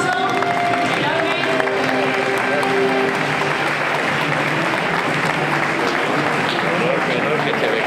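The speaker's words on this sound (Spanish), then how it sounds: "Un aplauso" Sustained applause from an audience at a gastronomy awards ceremony in Marbella, a dense, even roar of many hands clapping that fills the clip, with a few cheers and faint voices underneath.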